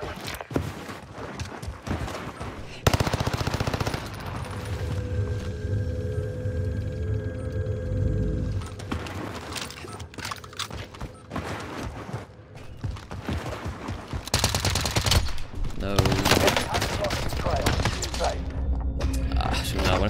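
Welgun fire in a first-person shooter video game: dense, repeated bursts of shots run through most of the stretch, loud and close, over a busy game soundscape.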